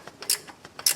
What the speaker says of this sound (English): So now I'm gonna switch to see if I can get a ratcheting wrench, which I can.